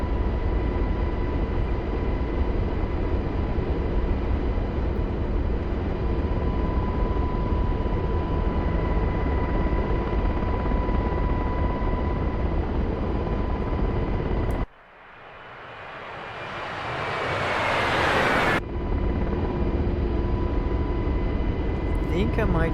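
UH-60L Black Hawk helicopter flying in DCS simulator in VR, a steady loud rotor and turbine drone throughout, briefly cut by a swelling whoosh, with someone speaking over it.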